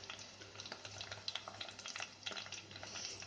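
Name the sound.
onion and green chilies frying with curry leaves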